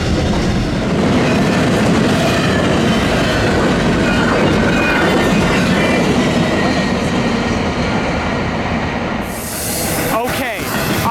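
Norfolk Southern eastbound freight train rolling along the Chicago Line near a depot, a loud continuous rumble of wheels and railcars with clickety-clack, steady throughout and close by, with a brief shift near the end.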